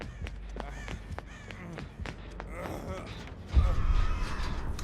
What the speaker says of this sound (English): Big crows.